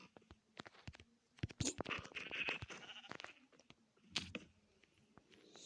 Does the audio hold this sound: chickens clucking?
no